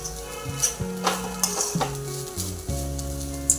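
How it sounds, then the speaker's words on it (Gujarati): Grated green coconut roasting in ghee over a low flame for kheer, a steady sizzle with a spoon stirring and scraping the pan, close and clear against a soft background tone with no voices. "આપણે ઘીમાં શેકવાનું છે થોડુંક હલાવતું રહેવાનું"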